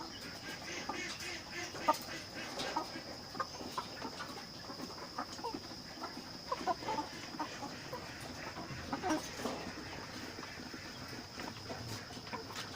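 Hisex Brown laying hens at 18 weeks cluck and cackle softly in a flock, with scattered calls over a faint steady background hum.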